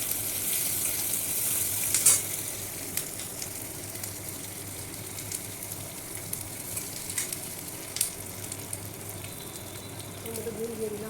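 Sliced onion and green chilli frying in a pan give a steady, moderate sizzle with faint crackles and a few louder spits and stirring clinks, no voices heard over the continuous hiss.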